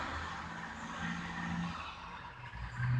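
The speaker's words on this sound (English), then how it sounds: "they have a truck making noise there. You hear that? Some traffic." A truck and passing street traffic rumble outside, a constant, fairly loud wash of road noise with swelling passes and no voices over it.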